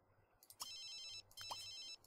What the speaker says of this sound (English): Can we change your ringtone?